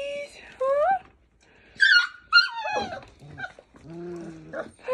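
Five-week-old puppies whine and yelp in high, wavering cries close by, with short bursts and a low moan toward the end.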